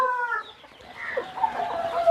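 Chickens on a Machilipatnam farm, young roosters and hens around seven to ten months old, cluck and call in a few close, overlapping bursts against steady farmyard background noise.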